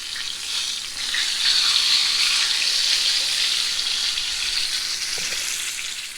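Country fried steak frying in hot oil gives a steady, close sizzling crackle that swells slightly and holds throughout, with no talking.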